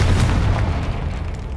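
A Confringo blasting spell goes off in Hogwarts Legacy, a loud, deep booming explosion that rolls on as a heavy low rumble and slowly fades, close and alone.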